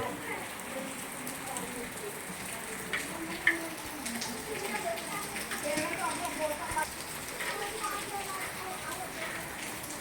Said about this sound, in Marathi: मुसळधार पाऊस पडत आहे बघा